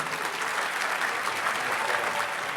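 Dense, steady audience applause fills a dinner hall at the Urban League's annual gala as a speaker is welcomed to the stage, continuous and full with no talk over it.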